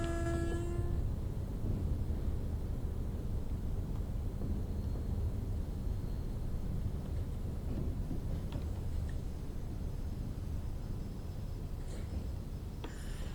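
Class 86 electric locomotive in Train Sim World 5 rolling slowly on the West Coast Main Line over Shap, a steady low rumble and hum of the train easing to a stop, with a brief tone at the start and faint clicks.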